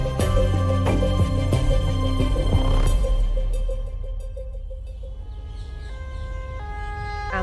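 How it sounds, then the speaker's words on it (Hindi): An ambulance siren wails loudly and close for a few seconds, then fades, giving way to a quieter two-tone siren in the distance. "एम्बुलेंस"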